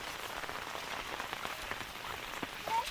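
Steady rain falls outdoors in the Konkan monsoon, a soft continuous patter of drops on surfaces with a few sharper splashes, fairly faint and without voices.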